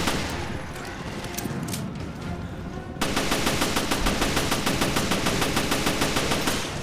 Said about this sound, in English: Let me just kill you with my handgun